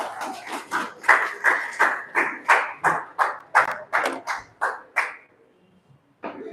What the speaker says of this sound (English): Clap for him as he comes.